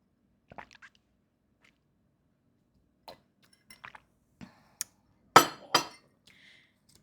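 Cups clink together in a toast over tea, a few sharp, close taps and clinks amid small handling noises in a quiet room.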